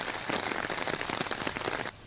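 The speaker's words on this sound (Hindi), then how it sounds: "बारां जिले के बीते 3 दिनों से लगातार बारिश जारी है।" Heavy monsoon rain falls in Rajasthan, India, as a dense, steady hiss of drops drumming on surfaces nearby, continuous and loud until it drops off abruptly near the end.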